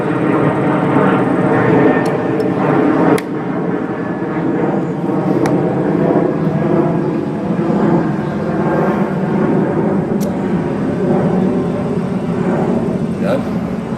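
Aircraft rumbling overhead near an airport outdoors, a steady loud low roar filling the whole stretch with a few faint clicks on top.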